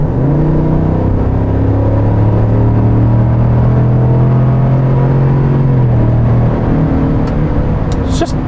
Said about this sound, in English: So here we are merging onto a freeway here, just gonna kind of hit it on this little on-ramp.